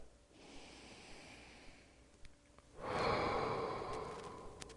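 A long breath out at the close of a yoga stretch, softer breathing first, then a fuller, louder exhale swelling up near the end, close and alone.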